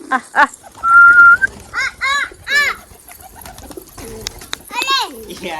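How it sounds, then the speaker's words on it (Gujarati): Pigeons cooing close by in a series of throaty rolling calls, some overlapping, with a longer whistle-like tone early on and brief quiet gaps between bursts. "કબૂતર"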